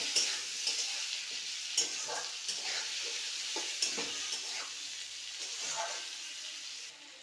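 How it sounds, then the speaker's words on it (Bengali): Fish frying in a pan with salt and turmeric is stirred: a soft continuous sizzle with repeated scraping strokes of the utensil, close and moderately quiet, with no talking. "হলুদ ভালো করে নাড়াচাড়া দেবো।"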